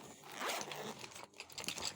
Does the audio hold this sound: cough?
no